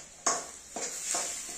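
Onions frying in a pan for poha give a steady hiss with three stirring scrapes at a moderate, unhurried pace, heard close up with no talking.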